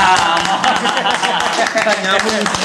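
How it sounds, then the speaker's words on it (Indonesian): A crowd at a Depok local election talk event claps for Bang Imam, a continuous patter of applause beneath talking voices. "Tepuk tangan dong buat Bang Imam"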